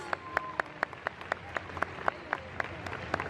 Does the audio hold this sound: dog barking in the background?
no